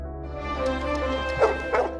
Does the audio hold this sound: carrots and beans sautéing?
no